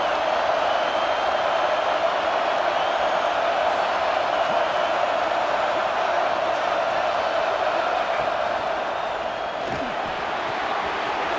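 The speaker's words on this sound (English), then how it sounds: "The crowd getting behind this defense as they try to get a stop in the red zone." A stadium crowd at a college football game between Syracuse and Utah roars steadily in support of the defense near the goal line, a dense, continuous wash of cheering that holds for over ten seconds.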